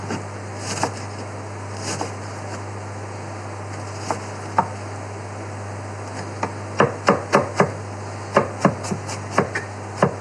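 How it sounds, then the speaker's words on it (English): A knife chops an onion on a cutting board for a cottage pie, a few scattered cuts early on, then a quick run of sharp, close taps in the second half over a steady background hum. "second half of the onion, I'm just going to come through and just do this. Okay, and I'm going to chop it down again."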